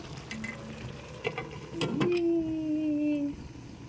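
Tilapia frying in a pan for ginataang tilapia, with soft sizzling and a few clinks and stirring taps, then a whistling tone sliding slightly lower.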